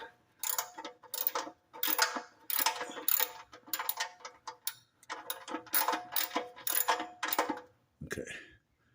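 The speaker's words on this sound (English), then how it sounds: "Now we're going to use our 17-inch socket. Put it back on there. And turn it clockwise to tighten it back up." Rapid ratchet clicking in repeated short bursts as a 17 mm socket wrench tightens the oil drain plug on a 2003–2007 Honda Accord, close and crisp, ending with a soft clunk.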